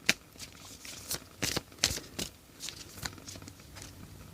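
A deck of affirmation cards being shuffled, with a run of crisp, riffling card slaps and flutters at close range and no talking.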